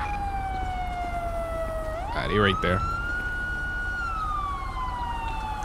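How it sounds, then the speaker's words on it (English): A police siren in GTA 5 wails steadily, then sweeps up in pitch and sweeps back down. It stays loud and close throughout, and someone speaks briefly over it partway through. "That is my siren, right?"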